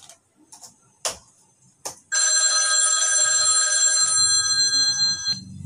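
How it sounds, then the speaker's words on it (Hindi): A few soft clicks precede a telephone ringing for a caller on a Hindi FM radio show, with a bright, continuous trill lasting about two seconds before it cuts off. "तो लीजिए हम हमारे नेक्स्ट लकी कॉलर को कॉल करते हैं।"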